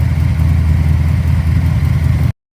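Car engine fitted with an Edelbrock 1405 carburetor, running on the fast idle cam at about 1500 RPM while warming up, gives a steady, close, loud idle hum that stops abruptly near the end.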